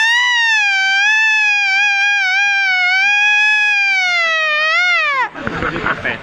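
A voice imitates a fire brigade siren, holding a loud, steady wailing tone that wavers slightly in pitch and drops away near the end, followed by a burst of crowd noise.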